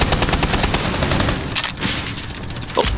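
Rapid automatic gunfire shooting through a wall in Rainbow Six Siege, a loud sustained burst of closely spaced shots with a brief lull midway before firing resumes, ending in a sharp final report.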